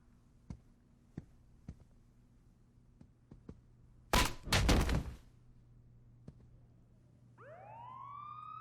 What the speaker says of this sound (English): Sounds like the cops are coming, Mr. Sharp.